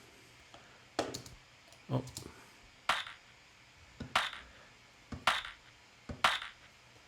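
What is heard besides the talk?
clap samples in a lo-fi pop remix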